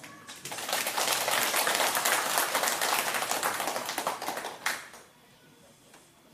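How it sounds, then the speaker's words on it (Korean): A church congregation breaks into loud, brisk applause for the choir and accompanist, many hands clapping together before it cuts off abruptly, leaving a quiet tail with a few scattered claps. "영광의 박수를 치겠습니다"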